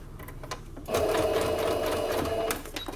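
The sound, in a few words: sewing machine stitching bias binding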